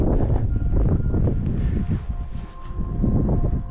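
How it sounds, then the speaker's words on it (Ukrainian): Strong gusty wind on Mount Yavirnyk in the Gorgany mountains of Ukraine buffets the microphone with low rumbling roar, rising and easing in waves throughout, no voices. "Ну а вітер тут завжди є."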